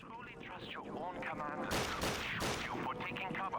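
A few sharp pistol shots ring out in Call of Duty, spaced irregularly under a man's loud, steady talk.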